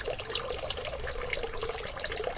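Water pours from a ladle at a Japanese temple purification fountain, a close, continuous trickle and splash with no talking over it.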